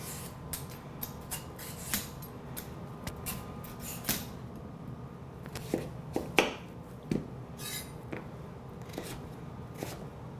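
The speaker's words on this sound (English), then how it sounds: "you just peel it like you would any other vegetable that you peel" A vegetable being peeled by hand, with repeated soft scraping strokes in an uneven rhythm, close and fairly quiet throughout.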